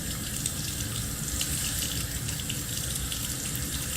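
Tap water runs steadily into a sink during hair styling for a slick ponytail or bun. The stream is close and continuous, with a bright, even hiss and no talking.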